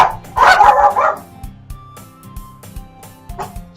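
Dogs bark in a few sharp, loud bursts close by, followed by quieter intermittent yips and whimpers over a steady electronic background tone.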